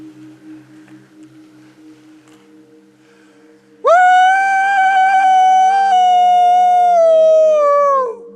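A person in a mountain forest imitates a Sasquatch howl: after a quiet stretch, one loud, sustained tonal howl starts abruptly around the midpoint and holds steady for several seconds before tapering off.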